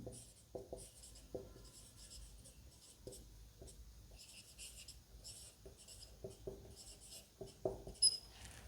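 A pen writes by hand on paper, producing soft scratchy strokes in short bursts with brief pauses between them. It is close and quiet, with no one speaking.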